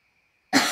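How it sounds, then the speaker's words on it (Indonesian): A single short, sharp cough bursts out close to the mic after a moment of near silence. "batuk."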